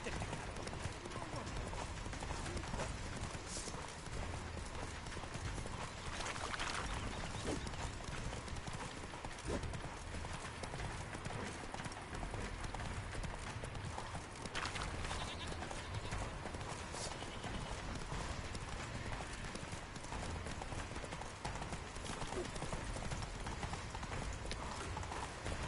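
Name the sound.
horse Roach galloping, from a video game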